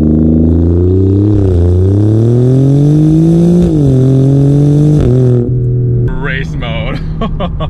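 A 2024 Alfa Romeo Giulia Quadrifoglio accelerating hard in race mode, its engine note climbing through rising gear pulls with brief dips at shifts, loud and close from inside the car, ending in a quick rising rev with crackles.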